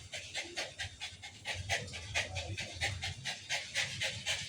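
Pipa the dog pants heavily and quickly in a steady rhythm of rapid breaths, close and clear, with faint background noise.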